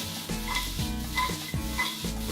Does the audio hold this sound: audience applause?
no